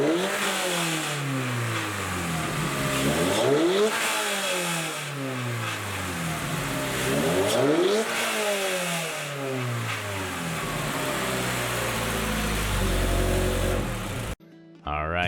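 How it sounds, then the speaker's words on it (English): A 2022+ Toyota GR86/Subaru BRZ engine with a carbon fiber cold air intake, cover off, revs up and down repeatedly in long sweeping surges, with a breathy intake whoosh rising on each climb, loud and close. "here is the first startup with the air intake installed and without the cover on it"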